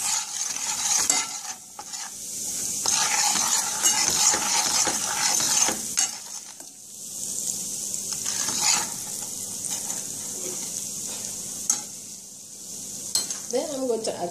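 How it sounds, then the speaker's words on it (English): Curry powder is stirred into sizzling olive oil in a pan, with a steady crackling fry broken by bursts of scraping and light utensil clinks against the pan. "Then some curry to this oil. I'm just gonna mix it around like that."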